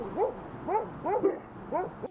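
A dog gives a run of short, rising whimpering yelps and soft barks, four or five close calls in quick succession with brief pauses between them, heard alone.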